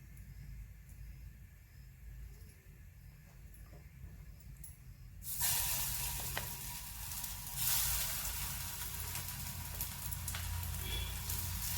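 Vadis shallow-frying in hot oil in a pan give a steady close sizzle that swells louder partway through as more pieces go in, with light stirring and no talk.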